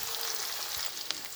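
Ginger garlic paste frying in a pan for fish roe curry, a brief, bright, continuous sizzle with a faint stirring tap.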